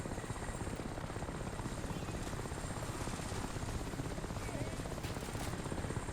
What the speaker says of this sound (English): there goes the chopper